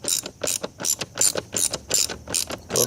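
Ratchet wrench tightening fasteners into a plastic air intake on a Volkswagen during a filter change, giving fast repeated clicking bursts in a steady back-and-forth rhythm, close and clear with no talking.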